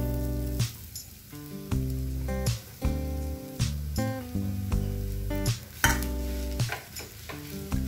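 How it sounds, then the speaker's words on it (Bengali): Boiled potatoes are stirred into spices frying in a pan, giving a steady sizzle broken by repeated scraping strokes of the spoon at close range. "এখন এর মধ্যে অ্যাড করে দেব সেদ্ধ করে রাখা আলু।"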